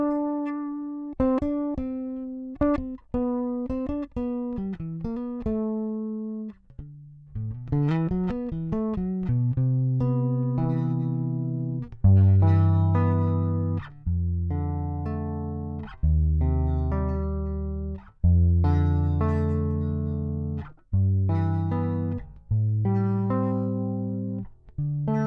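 Dan Lutz plays his SB-1 bass guitar high up the neck, a steady run of clear, sustaining single notes and dense chords across the upper register, close and solo with no voices over it.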